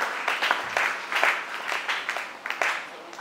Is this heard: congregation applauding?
yes